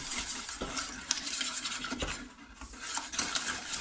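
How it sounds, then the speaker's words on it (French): A utensil scraping and stirring lemon cake batter around in a saucepan, soft continuous rubbing and clinking close by, with no voices. "on mélange comme ça pour avoir donc une préparation homogène"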